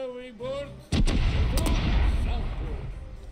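Heavy cannon fire in a naval battle in the video game Corsairs Legacy: a brief voice, then a loud booming blast that rolls into a long, rumbling decay.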